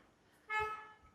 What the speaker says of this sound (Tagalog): Bumubusina ka.